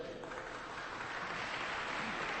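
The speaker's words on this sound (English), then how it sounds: "You're already applauding." Sustained applause from an awards-ceremony audience at the Prix Galien USA introductions, a steady broadband patter of many hands clapping that fills the whole moment without letup.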